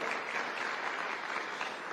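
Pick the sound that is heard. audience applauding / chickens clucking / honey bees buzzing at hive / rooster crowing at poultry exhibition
audience applauding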